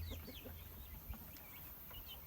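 Blue-type hens cluck and chirp softly in a flock on a farm, brief scattered calls over a low background hum, fairly faint and without speech.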